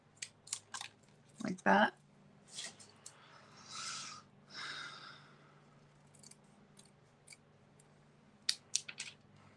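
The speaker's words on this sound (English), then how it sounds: "I just cut out of a scrap, see here, and then I'm just going to trim it" Scissors trimming a paper scrap in a crafting setting: close, crisp snips and rustling cuts come in irregular bursts, with a soft voice speaking briefly.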